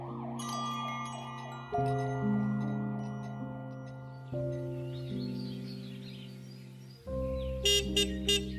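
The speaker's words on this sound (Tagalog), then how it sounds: "marinig ang pamilyar na tunog ng busina na yon ng kotse" A car horn sounds several short toots near the end, after a stretch of steady, layered tonal music-like sound; moderately loud, no talking.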